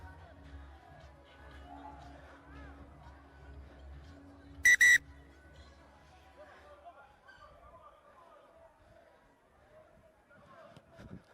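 A referee's whistle blows once, sharp and loud, at a rugby sevens final between Uganda and Kenya, cutting through a hum of crowd and commentary talk that continues before and after.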